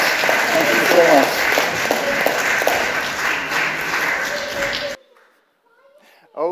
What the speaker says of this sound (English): Should we give them another round of applause?